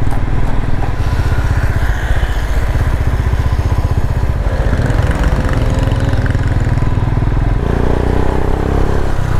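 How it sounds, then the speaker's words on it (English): A Royal Enfield Himalayan motorcycle pulls past mopeds on a Moroccan mountain pass, its loud steady engine drone rising and shifting pitch as it overtakes, continuous with no voices. "Now we overtake the mopeds."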